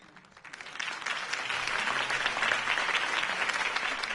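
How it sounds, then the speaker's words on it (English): A crowd at a city campaign speech applauds steadily, the clapping swelling quickly and holding as a dense, sustained ovation. "could have heard that applause"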